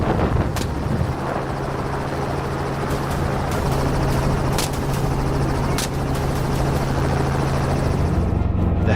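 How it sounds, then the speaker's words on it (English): A helicopter flies in over a freshly harvested field during a winter wild boar hunt, its rotor a loud, steady, continuous roar close by for the whole stretch, with no voices. "The helicopter veered in"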